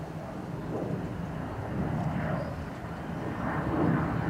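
A Ryanair jet departing Dublin Airport gives a loud, steady broadband engine roar that swells and rumbles throughout, with some wind buffeting over it.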